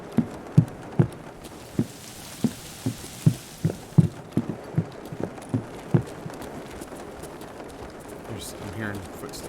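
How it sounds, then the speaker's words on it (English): Footsteps on a wooden floor one level below in a video game, a steady series of hollow thuds walking across boards, moderately close, followed by softer shuffling at the end. "I'm hearing footsteps. Wood footsteps downstairs."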